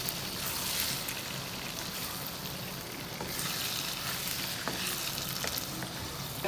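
Shrimp go into a pot on the stovetop for a cheap seafood boil, giving a steady, broad bubbling hiss that carries on evenly throughout.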